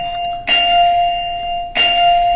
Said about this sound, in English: that's the bell that says, hey, it's time to get working